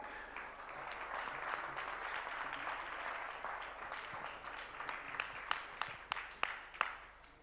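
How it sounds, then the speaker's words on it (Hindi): An audience at a Jain religious discourse gathering in Agra applauds a guest, a fairly distant, steady round of clapping that thins out toward the end into several separate, sharper claps. "इसलिए और जोरदार तालियां"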